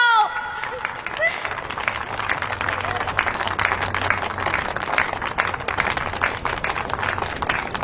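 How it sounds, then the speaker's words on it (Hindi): An audience claps together, producing a dense, continuous patter of applause that holds steady for several seconds. "ताली बजाओ।"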